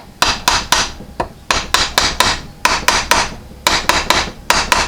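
Rapid light hammer taps on Phillips head screws of a throttle position sensor from a 1987-1997 Ford 5.8L, held in a vise, coming in close, sharp bursts of three to four quick metallic strikes with brief pauses between.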